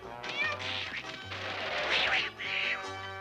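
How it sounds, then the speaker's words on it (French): A black cat in a Lucky Luke cartoon meows several times in quick succession, shrill, drawn-out and whiny cries over a light musical backing. "Hey, hey, un chat noir."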